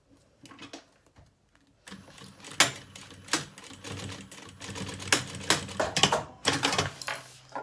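A sewing machine stitches along the edge of piping trim on a children's lunch bag, giving quiet fabric handling at first and then a close, clattering run of stitching in uneven bursts.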